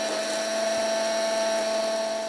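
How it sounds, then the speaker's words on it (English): An electric grinder blitzes a sugar and spice mix for a KFC-style coating, giving a steady, high-pitched whine that stays loud and unbroken throughout, with no talking. "The ingredients are going into a grinder here, like this."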